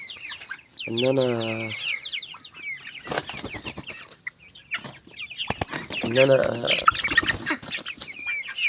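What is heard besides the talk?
domestic birds clucking while being fed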